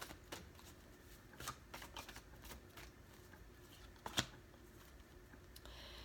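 Tarot cards are shuffled and drawn, giving soft, faint riffling and flicking with small taps and one sharper snap, all alone against a quiet background.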